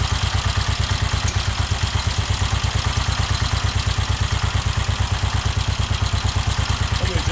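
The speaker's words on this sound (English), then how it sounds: "let's shut the fuel off. Let the bike run till it dies." A 1969 BSA Starfire motorcycle engine idles steadily with a fast, even, thumping beat and mechanical clatter, close and loud, running alone on its remaining fuel without any voices.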